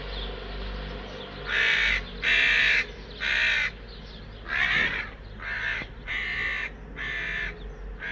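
A crow-like bird swoops at a dog on a road, giving a run of about eight loud, harsh caws in a fairly regular rhythm, close by and alone over faint background noise.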